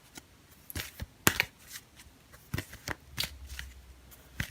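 Tarot cards being shuffled, a run of sharp riffling bursts and soft flicks close by, with no voices.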